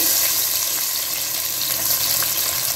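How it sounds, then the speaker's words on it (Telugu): Onions, cinnamon pieces, cloves and bay leaves frying in hot oil, a loud, dense, steady hiss and crackle close by with no break across the short stretch. "ఆయిల్ వేడైందండి. 2 చెక్క ముక్కలు, 4-5 లవంగాలు, 2 ఆకులు, ఉల్లిపాయలు వేస్తున్నానండి."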